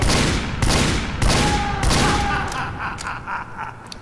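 Rapid Ambassador revolver shots in Team Fortress 2, four or five sharp evenly spaced bangs about half a second apart, loud and close, followed by softer clicks and faint game sounds at the end.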